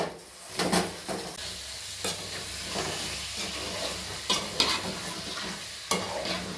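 Washed chicken added to a pan of fried ginger garlic paste for gongura chicken, sizzling and crackling steadily with periodic scraping stirs, close and moderately loud.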